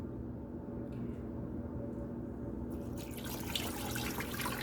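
Water pours steadily into a stew pot holding beef short ribs, a continuous close splashing stream that grows brighter and fuller toward the end, with no talking.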